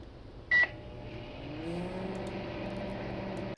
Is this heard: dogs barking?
no